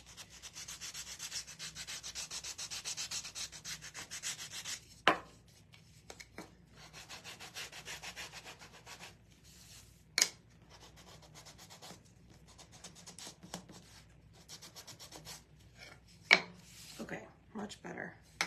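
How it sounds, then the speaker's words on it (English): A Gator power sander works over a wooden fall leaf cutout, giving a steady close rubbing whir for about five seconds, then shorter sanding passes broken by a few sharp knocks and clacks. "I want to use my Gator sander."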